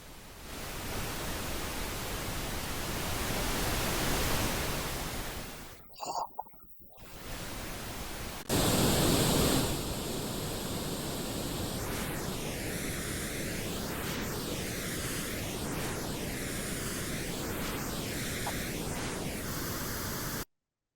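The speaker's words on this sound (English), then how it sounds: "I'm going to take that same sound source and encode it into a 3D sound format called ambisonics." A broadband hiss-like noise source is encoded into ambisonic 3D audio and panned around. It starts as steady noise, drops out briefly, then returns with a sweeping, swirling motion that repeats rhythmically.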